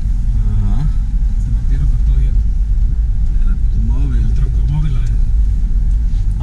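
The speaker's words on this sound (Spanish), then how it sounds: "aquí estamos una vez más manejando de regreso" Heard from inside, a car driving on a road makes a loud, steady low engine and road rumble that runs the whole time while people talk over it.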